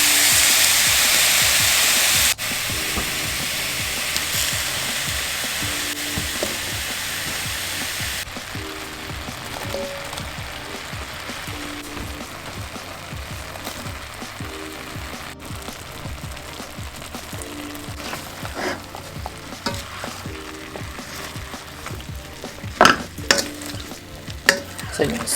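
Peppers and onions sautéing in one pan for a chicken and broccoli dish, a steady close sizzle with scraping stirs throughout and a few louder clinks near the end, no talk.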